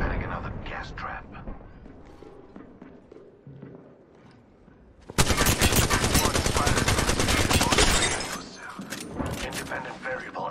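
Rapid bursts of gunfire from the video game Apex Legends on Nintendo Switch, dense automatic shots loud in the middle stretch, with scattered single shots, footsteps and game voice lines around them.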